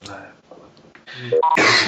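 A brief throat clearing and soft cough close to the mic, followed by a louder harsh burst at the end.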